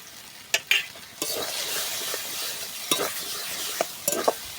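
Prawns fry with taro leaves in a pan, a steady sizzle broken by several sharp scraping stirs and clicks of a utensil against the pan.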